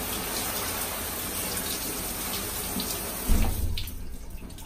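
Tap water rinses over a 3V Gear Nautilus 15L dry gear bag, a steady close rushing spray that shifts into heavier splashing near the end, with no talk.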